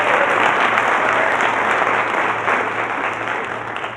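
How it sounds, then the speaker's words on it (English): An audience at a Colorado opioid abatement conference gives grantees a round of applause, a loud, full, continuous burst of clapping from a large room that holds steady and then eases slightly toward the end. "Please give all the grantees a round of applause."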